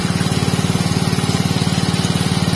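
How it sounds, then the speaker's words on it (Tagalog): A small grass cutter engine runs steadily while cutting weeds, its rapid even pulsing putter loud and near, with a buzzing drone and no voices. "Si Katrops ay mag-grass cutter."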